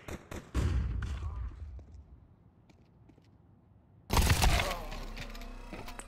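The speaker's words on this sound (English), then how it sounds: "Throwing flashbang." A flashbang grenade in Counter Strike 2: a sharp crack early on, a lull with light clatter, then a loud bright blast with ringing afterward, close and dominant.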